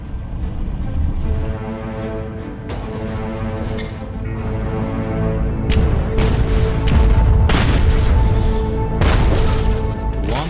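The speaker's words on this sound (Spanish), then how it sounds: "el USS Pope lanza una serie continua de cargas de profundidad." Depth charges dropped in a continuous series by the destroyer USS Pope, heavy booming blasts rolling one into the next, loud and sustained with dense low rumble throughout.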